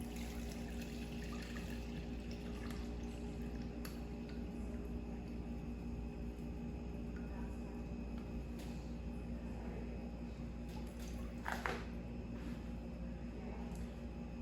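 Liquid lake pigment is poured into a cloth-lined colander, making a continuous soft trickle and dribble with occasional splashier drips, close by and steady throughout.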